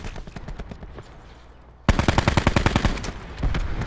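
Rapid automatic gunfire in Black Ops 4, a quieter burst first, then after a brief gap a loud, close string of sharp shots in fast rhythm.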